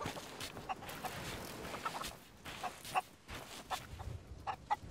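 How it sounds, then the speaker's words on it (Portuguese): A golden chicken clucks in short, scattered bursts amid the busy ambient din of the pirate game Sea of Thieves, fairly faint and intermittent over several seconds. "Galinha dourada, já vi ela."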